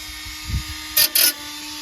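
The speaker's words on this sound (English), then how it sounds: "Using the old Dremel." A Dremel rotary tool cuts rusty metal on a 1973 VW, giving two short, close, high-pitched whining bursts over a faint background hum.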